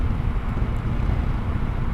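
Steady low roar of wind rushing past a rider on a 2025 Yamaha Tracer 9 GT touring motorcycle at about 75 mph, loud and constant with a muffled rumble and no talking.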